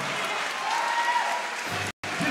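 Spectators at a Super Smash Bros. Melee tournament winners final erupt in a sustained roar of cheering and applause, dense and loud throughout, briefly cutting out near the end before resuming.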